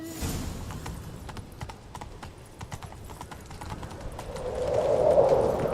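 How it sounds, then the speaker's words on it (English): Horse hooves clip-clop at a steady gallop in The Witcher 3, a continuous rhythmic trot of game footsteps with a rising rushing layer toward the end. "Grab a horse, we'll chase him down."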